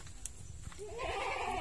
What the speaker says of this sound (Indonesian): Kandang kambing di sini.